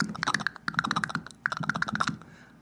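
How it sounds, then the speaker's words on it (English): Rapid keyboard speed-typing sound effect: dense bursts of clicking keystrokes in quick flurries with brief pauses, close and clear, with no talking. "That's speed typing."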